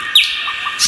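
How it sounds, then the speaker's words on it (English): A nightingale sings a short, bright burst of high chirps and tweets, fairly close and clear, lasting under a second with no talk. "It's a nightingale."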